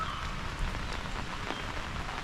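Heavy rain pouring down hard enough to flood the house, a dense, steady hiss and patter of drops on surfaces with no voices, unbroken for the whole stretch.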